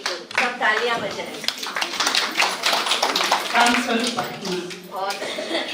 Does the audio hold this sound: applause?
yes